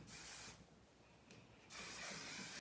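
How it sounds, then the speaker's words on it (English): Two long, close hissing bursts of heat protectant aerosol sprayed onto hair, separated by a short quieter gap, then a third burst starting; no one speaks. "I just spray this all throughout my hair."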